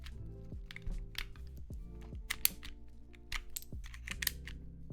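Keycaps clicking back onto a Vella 60PE mechanical keyboard with linear switches, a steady run of sharp plastic taps and thunks pressed one after another, close and clear with no talking.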